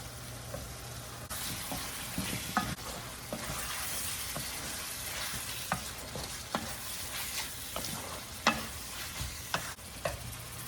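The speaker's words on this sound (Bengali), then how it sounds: "এখানে আমি এই যে আগের থেকে বেজে রাখা পনিরগুলো দিয়ে দিচ্ছি" Pre-fried paneer pieces go into a hot pan of oil and sizzle steadily, with stirring and scraping clicks over a continuous frying hiss, close and fairly loud, no talk.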